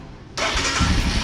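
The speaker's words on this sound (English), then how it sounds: "Let's crank up the motorcycle right now." A Royal Enfield Himalayan motorcycle with a newly replaced battery cranks briefly, then its engine catches and settles into a loud, rough, close-up rumble.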